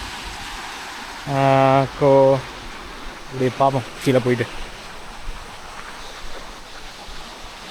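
Water at Fairlawn waterfall in Upcot, Sri Lanka, makes a steady rushing wash that runs throughout, partly masked by someone speaking nearby.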